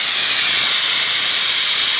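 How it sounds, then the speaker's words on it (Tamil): A pressure cooker whistles loudly while mutton bone soup cooks inside, a strong, steady, close steam hiss held without a break and with no talk. "இப்போது 10 விசில் வந்துச்சு."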